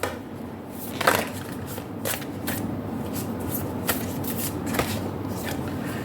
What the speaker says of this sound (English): Sometimes I forget whether I've cut the deck.